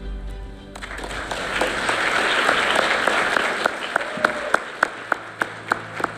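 Applause breaks out at a regional educators' awards and scholarship ceremony, swelling quickly into a full, dense round of clapping from the audience, then thinning to scattered individual claps near the end.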